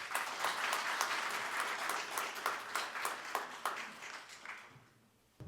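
Audience applause at a National Assembly spring Buddhist service welcomes a lawmaker to the podium, many distinct claps rising and falling in waves before tapering off to near quiet.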